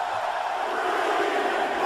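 A home crowd roars for Okada at a WCW Japan Supershow match in WWE 2K19, a brief, steady wash of cheering voices.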